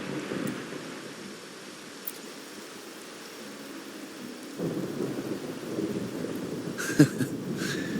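Steady rain falls with a low rolling rumble of thunder in the video game Wuthering Waves, a continuous wash of rainfall with a brief sharper crack near the end and no voices.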